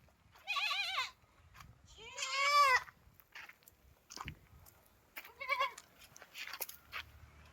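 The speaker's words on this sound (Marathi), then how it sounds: "सारे आमचे हे बकरीचे पिल्ले तुम्हाला पाहायला मिळत असेल." Young goats bleating in a village goat shed beside a farm field, with several loud, wavering calls close by separated by quiet pauses, plus fainter bleats and small shuffling noises.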